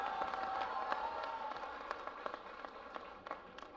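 Audience clapping at a Hindi poetry recital, a moderate burst of applause from the crowd that thins into scattered individual claps and fades away.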